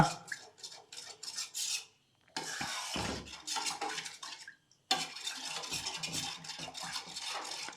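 A spoon stirring set curd into cooled packet milk in a vessel: close scraping and clinking strokes in bursts, broken by two brief pauses, with no one speaking.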